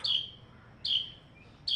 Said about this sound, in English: I guess you hear the bird chirping.